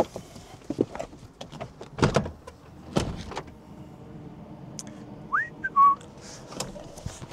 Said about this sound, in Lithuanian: malonu, kai duris atsidaro pačios